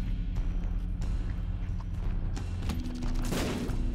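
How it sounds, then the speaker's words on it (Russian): Explosion in The Binding of Isaac, a burst of rattling blasts under busy game noise, rising into a louder crackling boom near the end. "Что-то взорвалось тут."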